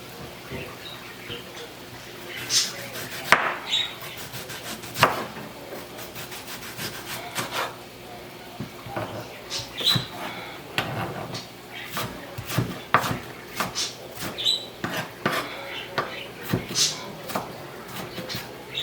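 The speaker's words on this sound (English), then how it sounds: "I'm chopping up some onions right here." Repeated dry knife strikes on a wooden board in an irregular rhythm, close and fairly loud, with a faint voice now and then in the background.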